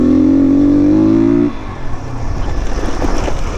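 A motorcycle engine revs loud and close on a Himalayan mountain road, holding a steady high drone for about a second and a half before dropping to a rough, lower idling rumble with the wind.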